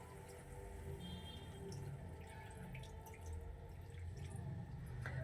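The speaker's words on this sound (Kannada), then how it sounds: "ಸೊ ಇದರಲ್ಲಿ ಸ್ವಲ್ಪ ನೀರು ಹಾಕ್ತೀನಿ." Water runs steadily into a pot of chicken, a continuous trickling and splashing with faint clinks, fairly close and without talk.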